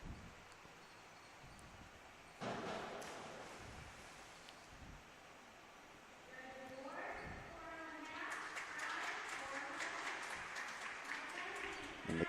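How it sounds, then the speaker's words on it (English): Spectators at a girls' high school swim meet clap for a diver after her dive, a broad wash of applause in an echoing natatorium that swells louder toward the end, with a voice talking over it early on. "And McGalgott gets her claps"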